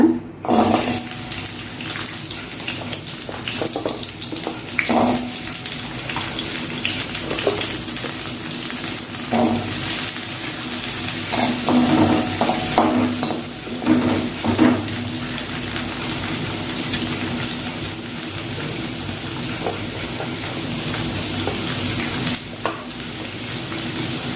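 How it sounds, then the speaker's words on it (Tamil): Onions sauté in oil in a pan, giving a continuous sizzle with frequent stirring scrapes and clinks, and a running-water wash sound mixed in throughout. "இது எல்லாத்தையுமே நம்ம நல்லா எண்ணெய் ஊற்றி வதக்கிக்கலாங்க"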